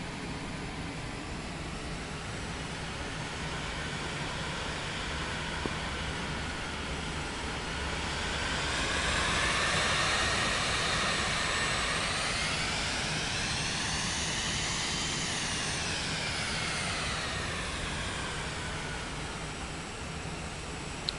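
A Cessna's engine roars through a takeoff run in Microsoft Flight Simulator 2024, a broad steady drone that swells in the middle and rises in pitch before easing slightly, with no voices.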